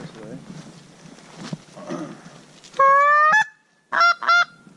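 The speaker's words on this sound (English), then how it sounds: "I hear geese." Loud goose honks come in two groups, a long honk followed by a pair of shorter ones, after some quiet background murmur.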